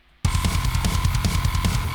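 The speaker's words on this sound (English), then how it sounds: "Just sounds way more like a real drummer's doing it" Fast, busy programmed drum pattern, kick, snare and hi-hat hits at uneven strengths, starting abruptly and playing loud and close with no voices.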